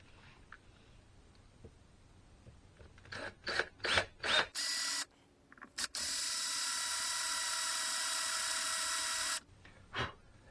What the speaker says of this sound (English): So you can see where we've drilled through. That's where the drill bits landed on the aluminium there.